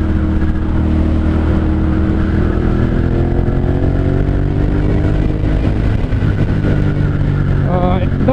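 Steady, loud engine drone from a 2014 Ducati Monster 1200 S motorcycle while riding, a continuous roar with shifting harmonic tones and wind noise throughout.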